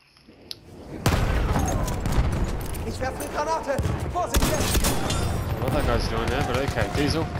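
Battlefield 1 combat on the Amiens map with the Howell automatic rifle: a sudden loud burst of gunfire and grenade explosions starts about a second in and keeps up dense and close, with a voice talking over it.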